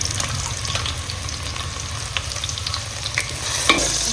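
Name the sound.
onion tempering frying in a pan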